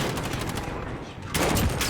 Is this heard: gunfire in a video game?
yes